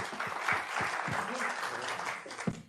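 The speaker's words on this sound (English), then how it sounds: "We can applaud our panelists" Conference audience applause for panelists after a business angels and startup panel discussion, steady close clapping from a room of listeners with a voice speaking over it.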